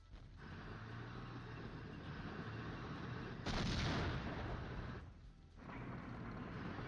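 Artillery barrage in the Flashpoint Campaigns: Southern Storm wargame, heavy rumbling shell impacts and booms swelling into a louder burst midway, distant and sustained with no voices.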